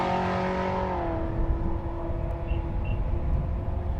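A naturally aspirated small-block drag race car at a race-week strip, its engine roaring loudly and then easing to a droning whir as it pulls away into the distance.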